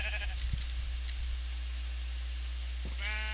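Sheep in Minecraft bleat close by over a steady low hum, with a few short clicks early on and a drawn-out, wavering bleat near the end.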